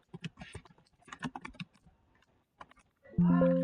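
Keys clatter on a computer keyboard in short, irregular bursts of soft clicks, followed by a brief steady tone at the end.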